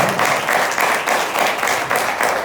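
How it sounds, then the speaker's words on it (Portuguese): A congregation applauding steadily at a church service, dense rhythmic clapping filling the room with no voices over it. "Uma salva de palmas para Jesus."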